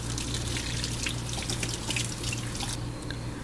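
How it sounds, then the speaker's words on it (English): Tap water runs steadily into a sink as eggplants are rinsed beneath it, with a constant splashing stream and light drips that ease off slightly near the end. "So just rinse off the eggplants."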